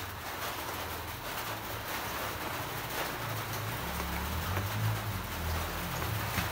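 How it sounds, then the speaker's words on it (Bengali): Rain falls steadily outside, a continuous broadband wash of drops on surfaces with a low rumbling undertone, constant in level throughout with no talk. "বৃষ্টি হইতেছে বাইরে"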